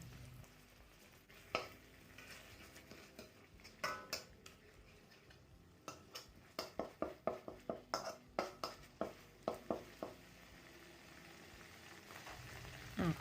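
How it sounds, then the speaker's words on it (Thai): Curry paste fries with tofu and egg in a pan, giving a soft, steady sizzle. A run of quick rhythmic scraping stirs and taps from the spatula rises over it in the middle, then fades back to quiet frying. "พอผัดเครื่องแกงได้ส่งกลิ่นหอมดีแล้ว"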